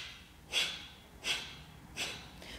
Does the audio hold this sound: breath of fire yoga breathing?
yes